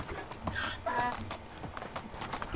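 A donkey's hooves clop in a steady rhythm in Medieval Dynasty, fairly close, with faint ambient game noise and a few brief tonal sounds in the background.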